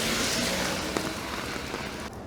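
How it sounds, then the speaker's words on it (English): Heavy rain pours steadily on a surface along the old Tokaido route near Fujieda, Japan, a dense continuous hiss close by with a few louder drops, easing slightly at the very end. "the rain has actually picked up quite a lot again"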